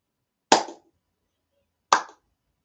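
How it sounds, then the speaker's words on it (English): Two sharp, separate hand claps, about a second and a half apart, loud and close with silence between them. "Clapping is a thing everybody can do."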